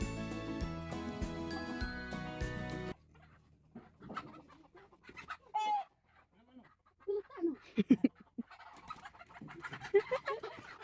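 Chickens cluck and chatter softly after a few seconds of music, scattered calls near and far with light tinkling sounds.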